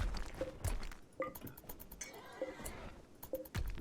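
Manhunter mare in the RimWorld video game, repeated short neighs and whinnies mixed with clip-clop hoof taps and faint clinks, moderately loud with a lone voice talking lightly underneath.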